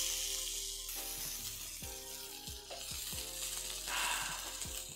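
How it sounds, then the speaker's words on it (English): A burger patty sizzles loudly in a hot pan while cooking, a steady crackling hiss with a few low thumps and scrapes. "Oh, that sizzle."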